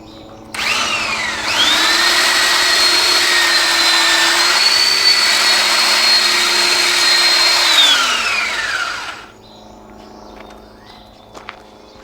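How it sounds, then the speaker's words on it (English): A power sander sanding wood whirs loudly for about eight seconds with a steady high whine, then winds down and stops, leaving quiet room noise. "let's do some sanding"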